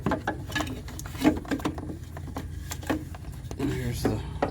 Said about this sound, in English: We'll take this 10mm bolt off and unplug them.